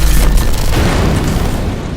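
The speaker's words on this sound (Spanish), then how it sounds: "Esta explosión dejó a todo Puerto Rico a oscuras en abril" A loud, deep explosion tied to Puerto Rico's island-wide blackout, heard as a sustained low boom and rumble that fills the whole stretch with heavy, roaring noise and no talk.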